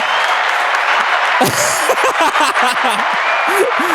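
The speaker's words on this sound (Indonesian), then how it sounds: "Boleh tepuk tangannya buat Bang Valen" Audience applause for a guest named Bang Valen at an Indonesian event, a steady broadband clatter running the whole time while a host's voice speaks over it.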